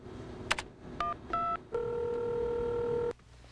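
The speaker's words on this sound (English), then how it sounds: "I must have dialed the wrong number." Touch-tone telephone dialing, several short DTMF beeps of different pitch followed by one longer steady tone that cuts off, clear and close over a low background.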